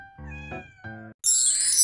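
A kitten meows twice in short, clear, close calls, followed by a bright chiming jingle.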